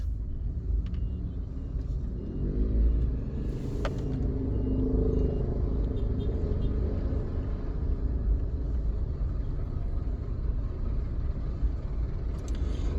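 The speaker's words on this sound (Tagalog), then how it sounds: "grabe ang haba ng traffic" Cars idle and crawl in a long traffic jam across three lanes, a constant low engine rumble with a brief swell near three seconds and a faint hiss of brakes, heard from close by without talk.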